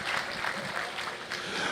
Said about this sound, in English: if you'd give him a round of applause for coming on short notice